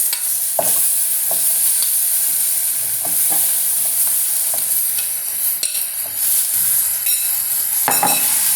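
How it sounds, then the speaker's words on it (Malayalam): Lemon, green chilli and ginger sizzling in a pan as they are stirred, a steady close frying hiss broken by repeated spoon scrapes and taps. "ഇനി ഇതിലേക്ക് എടുത്തു വെച്ചിരുന്ന നാരങ്ങ ഇട്ട് കൊടുക്കാം."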